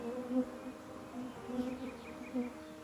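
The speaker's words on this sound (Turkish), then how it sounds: "arılarımız oğul vermeye başladı." A steady, low insect drone of many honeybees swarming from a hive, rising and falling in small swells throughout, with no voices.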